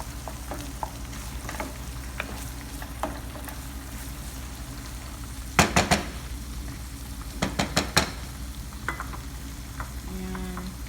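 Eggplant and egg fry in a pan for tortang talong with tuna, a steady soft sizzle beneath occasional scraping and clinking of a utensil stirring against the pan, with a few louder clusters of knocks midway, close and without talk.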